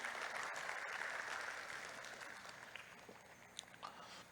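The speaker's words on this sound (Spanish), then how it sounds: "Dale un fuerte aplauso al Señor." A church congregation claps during a Spanish-language sermon, a faint, distant wash of applause that is fullest at the start and thins out, with a few scattered claps near the end.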